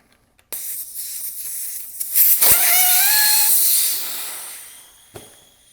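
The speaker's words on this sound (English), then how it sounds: "we will take the valve core out of here and deflate this tire" Air rushes loudly out of a car tire with its valve core removed, a strong steady hiss with a brief whistling tone partway through that fades away after a few seconds, no talking.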